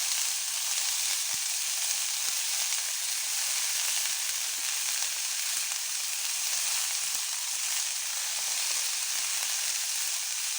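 Chopped onion sizzles steadily in hot oil in a frying pan, a dense continuous crackle with a few faint clicks, close and alone with no talk.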